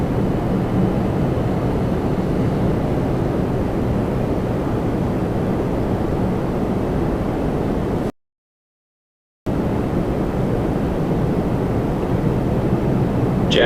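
A Jazz airliner takes off from runway 24 Right at Toronto Pearson, a steady loud jet roar rushing with wind noise. It cuts out briefly partway through and then resumes, with no talking.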